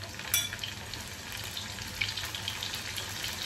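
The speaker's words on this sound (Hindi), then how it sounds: "इसमें अभी हम अपने स्वीट कॉर्न डालेंगे, थोड़े थोड़े करके हम इसे फ्राई करेंगे।" Sweet corn kernels frying in moderately hot oil give a steady, close sizzle and crackle with a brief sharper spatter near the start, continuous throughout with no talking.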